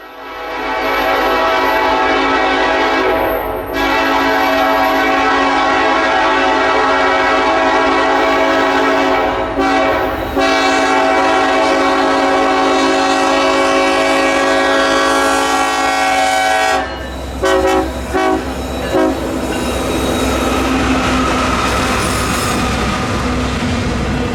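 A KCS SD70ACE locomotive, number 4150, leads a KCSM AC44 freight train past milepost 100.8 in Ruston, the horn blowing loud and sustained over the steady roar of engines and rolling freight cars.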